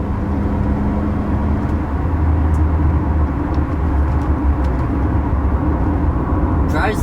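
A Toyota Camry with a repaired head gasket accelerating up a highway on-ramp, heard from inside as a steady, loud engine drone and road rumble that holds throughout with no clear rise, a short clatter at the end.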